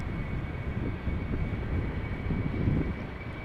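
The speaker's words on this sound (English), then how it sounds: "So, Cargolux, Boeing 747, Cargolux Italia. Destination Luxembourg." A Cargolux Italia Boeing 747 cargo jet bound for Luxembourg at Amsterdam Schiphol Airport: a steady, distant, broadband engine roar with a faint whine, heard alone without voices.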